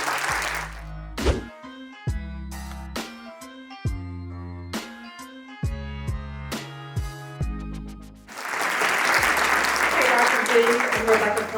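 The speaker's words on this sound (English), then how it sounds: "Clap for that." Keyboard notes ring out for several seconds, then a talk show audience breaks into loud, sustained clapping that fills the final few seconds.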